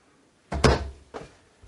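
Mirrored double-door medicine cabinet above the sink in the bathroom of a 2020 Coachmen Northern Spirit 2557RB travel trailer, heard as two close, solid thunks of the doors closing, the first louder, then a fainter second knock.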